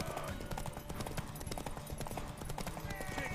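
Steady, fast clip-clop of a galloping horse in The Witcher 3: Wild Hunt, close and continuous, with a brief whinny-like tone mixed in.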